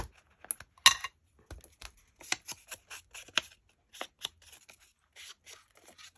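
Scissors cut and trim a paper gift card pocket page at close range, making crisp irregular snips and paper rustles in short bursts with brief quiet pauses between them.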